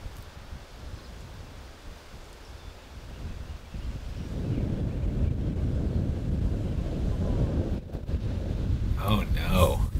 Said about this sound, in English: That wind really starting to pick up